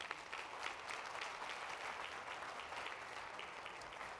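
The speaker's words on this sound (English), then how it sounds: "Let's give them another round of applause" A conference audience gives the speakers another round of applause, a soft but dense, evenly sustained clapping that sounds distant and stays uniform from start to finish.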